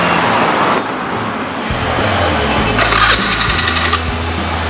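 An automatic scooter-type motorcycle engine, freshly repaired after repeated sudden stalling, starts up amid background noise and settles into a low, steady idle with a brief blip of revs; close, no talking.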